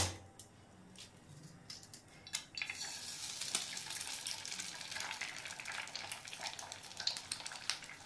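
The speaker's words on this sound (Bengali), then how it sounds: "আমি এবার ডিম 2টো ফাটিয়ে একটু ভুজিয়া করে নেব।" Two eggs cracked into hot oil in a pan for egg bhujia: a couple of sharp taps, then a rising, steady sizzle with crackling pops, close and continuous.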